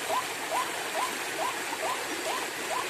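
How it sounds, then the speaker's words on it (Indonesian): A river stream flows in a steady broadband rush, close and continuous, with a repeating bird chirp faintly riding on top and no talk. "Dan di sini sungai ya."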